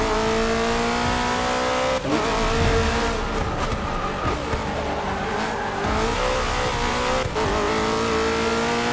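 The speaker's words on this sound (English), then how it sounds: "a little bit too much wheel spin." Race car in the Forza 6 video game spinning its wheels while accelerating out of a corner: a loud, sustained engine roar with rising revs and brief tire squeal, continuous throughout with no talk.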